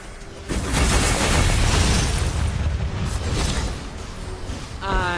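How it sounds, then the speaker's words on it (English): A turret is destroyed in the mobile game Mobile Legends, a sustained loud explosion with a rumbling low end and crackling debris lasting several seconds, then a synthesized voice line near the end. "Your team destroyed a turret!"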